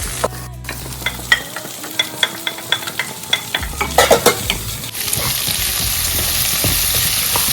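Curry leaves frying in hot oil in a pan for a tomato rice dish, with a series of crackling pops and spits over a steady sizzle that swells into a loud, continuous hiss near the end, with no talking.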